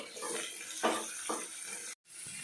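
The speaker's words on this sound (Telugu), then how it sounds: "దీనిలోనికి మనం ఉడికించుకున్న కాకర ముక్కలు వేస్తున్నాను" Boiled bitter gourd pieces frying in hot oil in a pan, a steady broadband sizzle with a couple of brief louder crackles, close and continuous apart from a short gap near the end.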